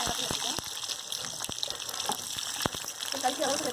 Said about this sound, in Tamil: இப்போ வெங்காயம் சேர்த்துலாங்க.